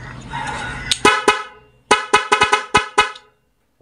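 An aftermarket multi-tone car horn kit wired alongside a mini driving light, set to mode 4, blares a long tone, then two quick blasts, a pause, and a rapid run of about six sharp honks before cutting to silence.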